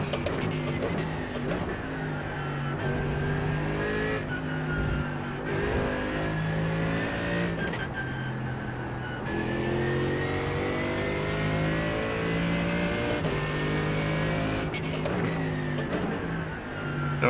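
GT3 race cars at Spa in a racing game, a loud engine howling through repeated upshifts and downshifts, revs climbing and dropping in waves, with other cars running close alongside.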